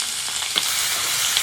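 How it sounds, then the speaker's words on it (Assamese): Pork pieces frying in their own fat in a hot wok, a loud continuous crackling sizzle with a few sharper pops, close by with no talking. "এয়া গাহৰি পৰি গৈছে কেৰাহীত, পেটেৰ পেটেৰ আৱাজ দি দিছে বঢ়িয়াকৈ মজাকৈ"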